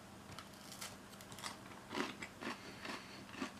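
Close, crisp crunching as someone bites and chews a crunchy protein bar, several distinct crackly bites in a quiet room.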